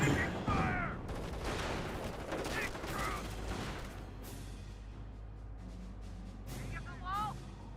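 Gunfire and artillery from the World War II strategy game Company of Heroes, with Panzer Grenadiers, a Sherman tank and a .50 cal in play: dense, overlapping bursts and blasts rumble continuously while a voice talks over the battle.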